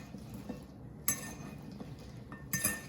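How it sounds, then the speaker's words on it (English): Hot peppers being stirred with salt in a bowl for preserving: two sharp, close metallic clinks of a utensil against the bowl, spaced over a low, steady rustle of mixing, with no voices. "I'm going to add some salt, just enough. And I'm going to mix it up like this."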